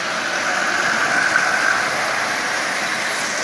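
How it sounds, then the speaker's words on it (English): A Marx 666 toy steam locomotive running at moderate power, a steady close mechanical whir and hum of the small motor with no talking. "this engine is up and running, and it's running really well"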